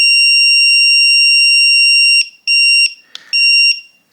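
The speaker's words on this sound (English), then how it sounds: "once you hear that long beep and a short beep, it means the reset is complete" A Defiant keypad door lock gives a loud, steady high-pitched electronic tone for about two seconds, then a few shorter beeps separated by brief gaps, close by, signaling a completed reset.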